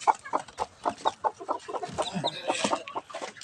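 Native chickens and chicks cluck in a busy, close, rhythmic stream of short calls, with a few higher peeps mixed in.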